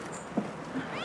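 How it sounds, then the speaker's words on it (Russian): A kitten, just brought indoors as a gift, gives one or two soft, short meows over a quiet room hush. "Котенок."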